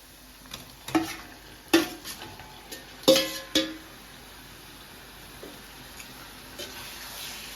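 Raw chicken pieces drop into a spiced pan of sautéed green chillies for a pepper chicken dry fry, giving a few sharp clattering thuds and scrapes near the start, then a faint quiet sizzle with occasional light clinks.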